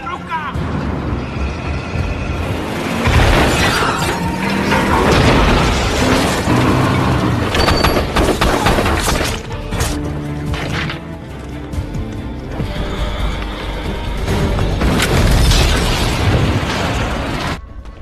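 An action film scene fills with gunfire and explosions, dense bangs, booms and crashes layered over a dramatic score, while a narrator speaks throughout.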